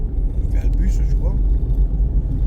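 A school bus rolls past outside on a snowy day, its low engine rumble steady and close throughout, with a person's voice speaking briefly over it.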